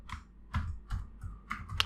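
Several distinct keystrokes on a computer keyboard while text goes into an Excel cell, each a close, crisp tap with a dull thump beneath, spaced in an uneven rhythm about every third of a second.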